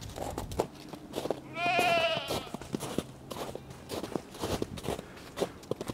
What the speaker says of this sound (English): let's see where these goats are